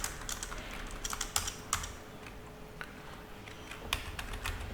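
Typing on a computer keyboard while entering a DNS server record during a Linux server setup: steady, close clicking keystrokes in quick irregular bursts with brief pauses, no voices.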